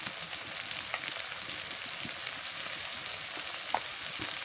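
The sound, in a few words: turmeric and garlic paste frying in pan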